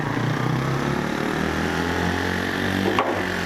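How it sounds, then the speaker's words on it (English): Bullit Bluroc 125 motorcycle engine droning steadily at close range as the bike rides over wooden pallets via two ramps, with a brief knock near the end. "Test 3, the riding over some pallets via 2 ramps"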